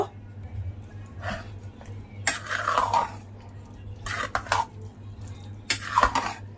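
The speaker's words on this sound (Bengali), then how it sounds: "এবার মশলাটাকে ভালো করে মিশিয়ে দেবো" Spices stirred into a pot of kabuli chickpea curry, heard as several separate bursts of scraping and clinking from a spoon against the pot, with quiet room hum between them.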